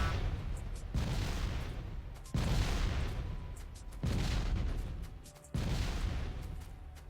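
Rocket explosions in Factorio, four heavy booms in steady succession, each a loud broad blast that rumbles and slowly fades before the next hits.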